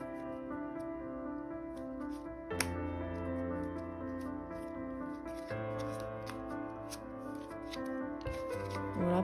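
A deck of playing cards being cut and shuffled for a close-up card trick, soft riffling and flicking card noises beneath steady background music, with no talking.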